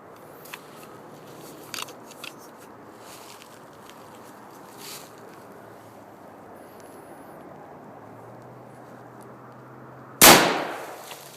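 A single sharp, loud gunshot from a Mosin Nagant rifle firing 7.62x54R into a flak vest cracks out near the end, after several faint clicks and handling noises against a quiet background.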